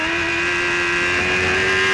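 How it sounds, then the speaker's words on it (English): A club race car with a broken exhaust or loose exhaust mounting drones raucously at Brands Hatch, a steady, loud, rasping engine note holding nearly constant pitch as it passes close by. "His car there is sounding quite raucous when it's come past me, so it is a broken exhaust, or an exhaust mounting possibly on that car."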